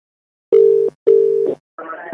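Two steady electronic telephone beeps with a pause between them, after a phone call is cut off, then a short burst of muffled sound; loud and close.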